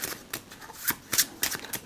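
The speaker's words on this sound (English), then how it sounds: "give that pack a shuffle" A pack of playing cards is shuffled in a quick series of riffling bursts that swell and fade, close by and crisp, with no talking.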